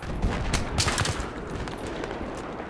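Rapid, dense gunfire from the video game Battlefield 3, a sustained burst of overlapping shots that is loudest early on and then settles into a steady rattle, with no talking.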